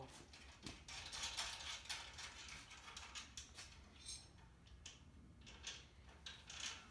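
A ratchet removes bolts during a 1966 Nova race car build, giving quiet, close clicking and metallic clinks in short irregular bursts.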